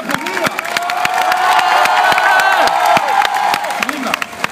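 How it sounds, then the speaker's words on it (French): A talk-show audience applauds loudly after a live performance, with dense, rapid clapping, mixed with cheering and whoops from a crowd close by. "Et vous pouvez les applaudir."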